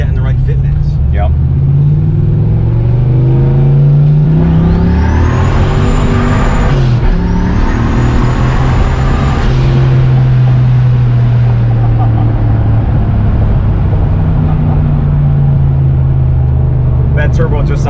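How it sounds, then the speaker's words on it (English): A turbocharged 363 Foxbody Mustang accelerates hard from inside the car, its engine rising in pitch through long pulls with shifts in between and turbo whine on top, loud and continuous, with a voice now and then over it. "That turbo just sounds amazing."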